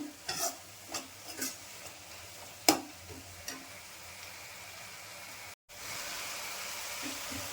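Mint paste fries in a pan while a spoon scrapes and stirs it in several distinct strokes over a faint sizzle, then a steadier hiss of oil takes over after a short gap.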